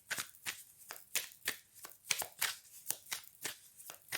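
A deck of playing cards is shuffled over and over in a steady rhythm of about ten crisp riffle bursts, each a bright flutter of cards, close by and alone with no talk.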